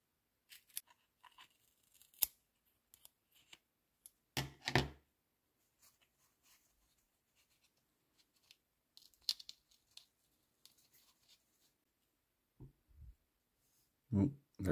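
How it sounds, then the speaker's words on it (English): Scissors snip open a carnivorous nepenthes pitcher plant with a few sharp cuts and crinkly tearing of the pitcher wall, close and quiet, separated by pauses with some speech. "I'm gonna have to cut this open."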